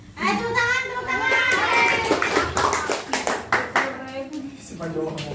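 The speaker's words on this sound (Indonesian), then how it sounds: "Ayo tepuk tangan" Children at a classroom quiz about bullying clap their hands in bursts of sharp, rhythmic claps while their excited voices chatter and call out alongside.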